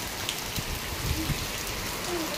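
Dense rainfall roars steadily, with a few louder drips and splashes standing out nearby.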